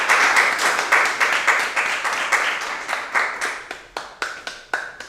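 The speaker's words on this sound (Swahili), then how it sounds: "Makofi." A classroom of pupils claps for a student, a dense burst of applause that thins into slower, scattered individual claps toward the end.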